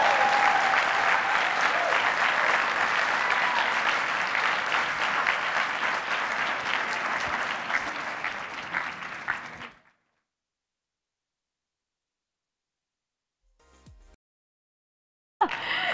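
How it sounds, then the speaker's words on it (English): An audience at IZEAFest 2015 applauds for speaker Simon Bailey with loud, dense, sustained clapping that fades out before ten seconds, followed by silence and a few faint, brief sounds. "Of applause, please, for Simon Bailey."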